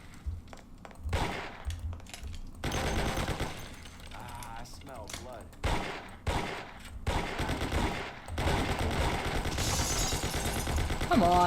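Gunfire rattles through a Mafia (2002) shootout, including a Tommy gun, with rapid bursts and single shots arriving in loud clusters over continuous game noise while a player talks in between.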